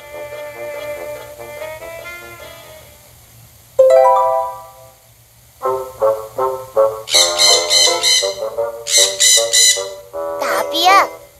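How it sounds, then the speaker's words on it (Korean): A parrot squawks in a narrated children's story, with bright, repeated shrill calls and chirpy bursts growing louder after a quieter spoken stretch, mixed with a child-like voice. "앵무새잖아"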